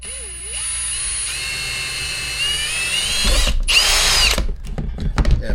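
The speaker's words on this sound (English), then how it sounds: "it probably looks a little scary drilling through panels" A power drill bores through plastic body panels on a BMW K 1600 B motorcycle, whining steadily up close before a louder, rougher burst as the bit cuts through, then short stuttering bursts.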